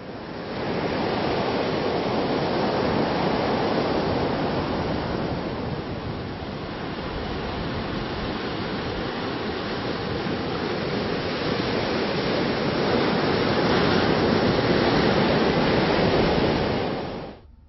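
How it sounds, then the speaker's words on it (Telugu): Heavy sea waves surge onto the Visakhapatnam and Kakinada coast, rising two to four metres; a continuous loud roar of surf and wind fills the whole stretch with no voices. "విశాఖ, కాకినాడ సముద్ర తీర ప్రాంతాల్లో 2 నుంచి 4 మీటర్ల మేర అలలు ఎగిసిపడుతున్నాయి"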